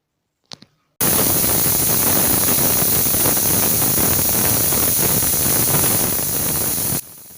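Steady, loud hiss of steam escaping from a pressure cooker of bone soup, a continuous rush that begins abruptly after a brief knock and holds for about six seconds before cutting off.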